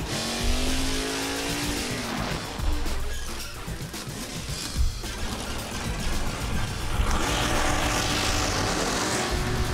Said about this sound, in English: I want to see some Chevy big block burnouts.